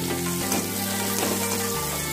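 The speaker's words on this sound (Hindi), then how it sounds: "अब इसको खूब अच्छे तरीके से भूनिए, जब तक कि आपका ये जो बीन्स है वो पक न जाए।" Vegetables, including beans, stir-frying in a pan for street-style veg chowmein, with a steady close sizzle and soft scraping of stirring throughout, no talk.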